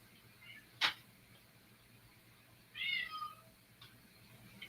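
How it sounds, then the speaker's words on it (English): A domestic cat meows near the back door, two separate calls with a short sharp cry first and a longer wavering meow about two seconds later, fairly faint against a quiet room. "The cat will go to the back door and stand there at the back door and meow"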